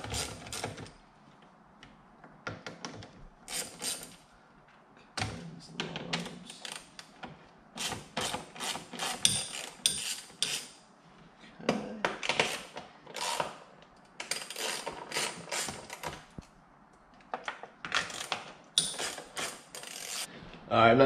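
A ratchet clicks in short bursts while four bolts are backed out during a short-throw shifter install in a Corvette C7 Z06, the quick pawl rattles close and separated by brief pauses.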